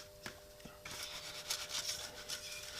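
Casting sand is pushed through a sieve while a mould is made, a soft, close rubbing and scraping hiss after a couple of light taps near the start.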